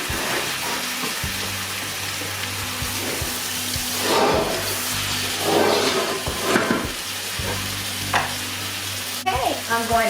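Pasta sizzles and crackles in a hot frying pan while being stirred, with scraping sounds and a low steady hum in the background.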